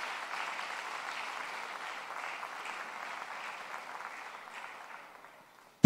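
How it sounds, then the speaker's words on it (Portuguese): A church congregation claps in praise to God during a sermon, a soft, distant patter of applause that fades away near the end. "Você pode aplaudir a Deus por isso?"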